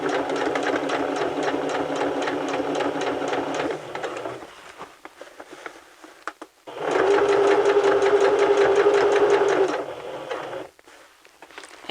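A sewing machine stitches a seam in two sustained, rapid runs separated by a brief pause, with a short backstitch at the start; close and steady with a fast mechanical chatter.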